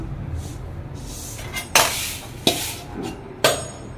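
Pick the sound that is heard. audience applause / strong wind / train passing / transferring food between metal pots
transferring food between metal pots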